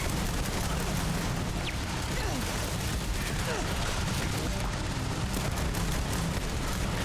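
Turrets fire at the player in the Starfield video game. Dense rapid gunfire and blasts come in loud sustained bursts under a constant roar of noise.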